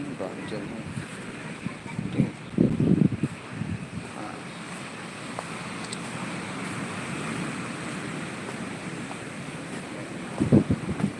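Sea waves wash onto a beach with strong wind buffeting the microphone, a steady roar broken by a few louder surges, while a voice talks over it.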